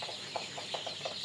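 Chickens on a small farm, about sixteen days old, give a string of soft, short clucks at a steady uneven rhythm over a faint constant background hiss.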